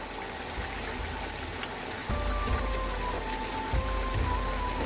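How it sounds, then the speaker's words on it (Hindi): Beef yakhni stock bubbling in a cooking pot, a dense steady simmer of popping and gurgling bubbles that grows louder halfway through, with no voices. "यखनी के बबल्स बनने शुरू हो गए हैं"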